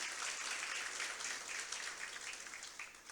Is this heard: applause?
yes